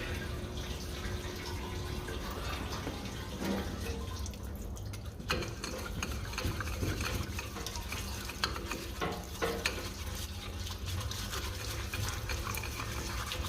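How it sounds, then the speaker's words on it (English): A parts washer recirculating cleaning fluid over Lucas D3A4 distributor parts being scrubbed, giving a steady wash of running liquid with scratchy brushing and stirring noises throughout, fairly close and with no talking. "So we'll fire up the parts washer and give them a clean out."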